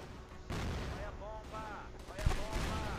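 XM8 rifle gunfire in the online shooter CrossFire, a loud burst of shots over busy game sounds and effects, with one sharp crack standing out.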